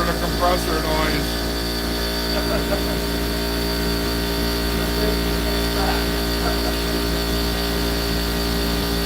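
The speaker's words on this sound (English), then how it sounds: "Sorry for the compressor noise." An air compressor runs indoors as a steady, loud mechanical drone with a constant hum that holds evenly for the whole stretch, with no pauses or changes in level.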